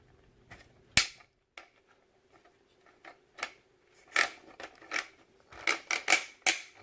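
Plastic ratcheting clicks from a Hasbro Transformers Combiner Wars Long Haul figure being transformed, a loud snap near the start followed by scattered sharp clicks that cluster into a rapid run toward the end, close up with no talking.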